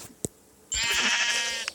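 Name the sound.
sheep bleating in a video game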